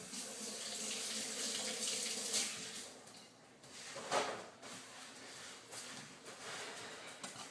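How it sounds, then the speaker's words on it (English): Tap water runs steadily into a kitchen sink as hands are washed after cracking eggs for almond waffle batter, a continuous close splash with slight shifts in flow. "so now I gotta wash my hands."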